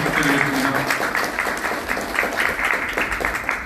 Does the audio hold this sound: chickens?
no